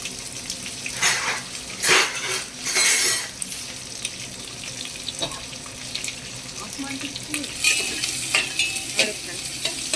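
Onions fry in a pan for a wheat-flour chakoli dish, a steady sizzle broken by bursts of louder hissing and scraping as they are stirred, with some running water and faint clatter.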